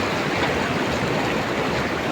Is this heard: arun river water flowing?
yes